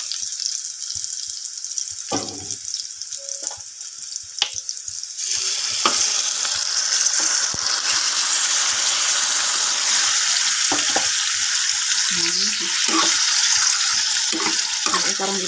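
Pork goes into a pan already cooking onion and garlic. A quiet stretch of clinks and handling gives way to a loud, steady sizzle that continues to the end, with spatula scrapes and faint bits of voice underneath.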